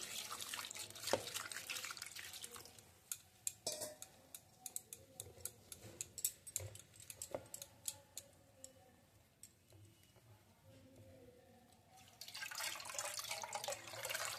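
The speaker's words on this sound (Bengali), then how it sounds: "এবার জল দিয়ে দিচ্ছি।" Water is poured into a pot of grated bottle gourd, with rushing pours at the start and end and scattered drips and light clicks between, heard fairly faint with no talking.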